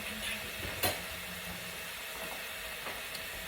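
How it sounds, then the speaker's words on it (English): A spoon scraping browned steak bits off the bottom of a hot skillet while it sizzles. Steady frying hiss runs throughout, with one sharp scrape near the start and a few faint scrapes later, all close and moderately quiet. "Scraping up the bits off the bottom."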